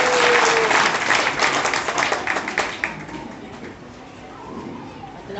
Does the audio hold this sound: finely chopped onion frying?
no